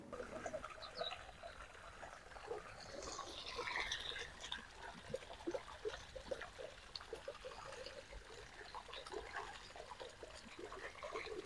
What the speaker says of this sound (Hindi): ये देखिए अभी भैया हमारे पानी दे रहे हैं इस तरीके से